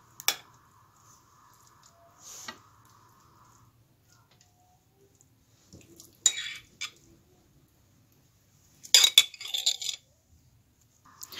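Dishes and cutlery clink as food is served onto a serving plate, a few separate bright clatters and taps scattered across quiet stretches, close and fairly faint.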